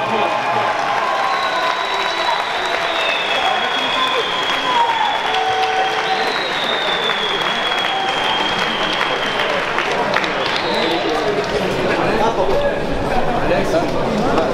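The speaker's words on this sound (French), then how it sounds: "Je voudrais qu'on applaudisse dans le coin rouge Franck Ryutsukov." An audience at an amateur boxing tournament applauds steadily and continuously, the dense clapping mixed with crowd chatter, while an announcer speaks over it.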